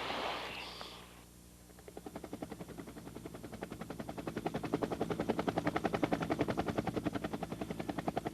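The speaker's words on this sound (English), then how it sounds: "A U.S. Navy helicopter arrives at observation point." A U.S. Navy helicopter draws closer over a remote island observation point, its rotor thumping in a steady pulsing beat that swells louder against a constant background hiss.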